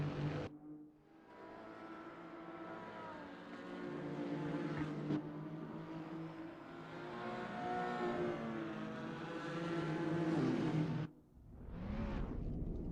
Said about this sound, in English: Now with the Toyota Supra finishing its lap